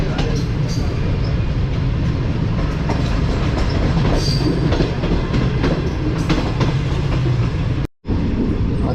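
Tezgam passenger train running on rails, a loud, steady rumble with rhythmic wheel clatter heard from inside, continuous throughout except for a brief dropout near the end.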